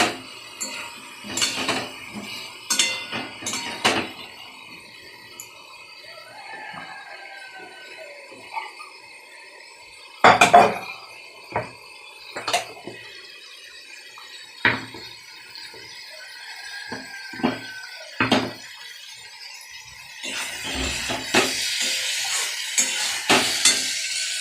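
A spoon scrapes and clinks against a pan while a spice paste of turmeric, Kashmiri chilli and chilli powder is stirred and fried. Sparse metallic knocks and clatters sit over a faint sizzle, busier and louder near the end.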